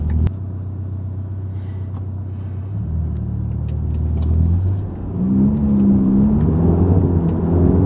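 A Ferrari drives along at steady speed, its engine rumbling low and continuously, swelling slightly midway and then settling into a smooth whir, close and loud.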